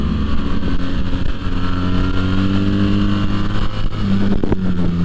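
A loud BMW R1300 GS motorcycle engine (2023) runs steadily with strong low harmonics, its pitch rising and shifting as it revs, close and continuous with no talking.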